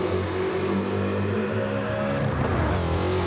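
A Trans Am race car engine revs and pulls hard in a steady, loud drone with a slowly rising pitch, heard from a distance without any talk.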